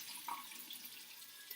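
Cold tap water running at a bathroom sink as a face is wetted, a faint continuous splashing hiss with small drips and splats, close by and without talk.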